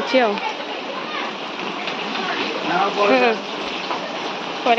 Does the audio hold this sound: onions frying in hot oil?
no